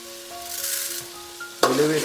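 Fenugreek seeds are stirred into a frying coconut-milk pilopi fish curry, a soft sizzle that jumps into a louder burst of stirring and spattering near the end.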